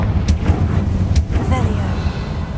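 A Confringo blasting spell explodes in the Hogwarts Legacy video game, heard as two sharp, loud bursts over a steady low, rumbling game background.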